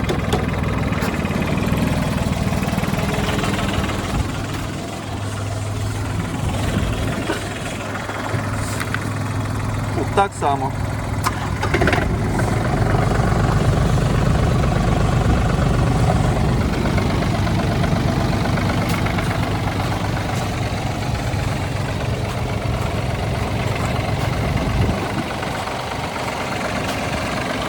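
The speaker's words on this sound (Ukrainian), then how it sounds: "Запустимо двигуни, нехай трошки погріються, поїздимо на них." Small diesel engines of Yanmar RS-30 and Mitsubishi MTR-300 mini tractors idle steadily with a low, chugging rumble close by, while someone talks over them; a brief clank occurs midway.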